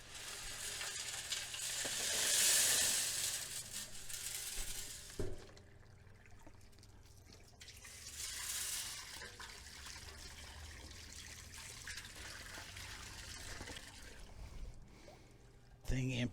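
Silver shot and water poured from a barrel into a shallow pan, a rushing pour that swells and fades, with splashing and knocks, under occasional talk.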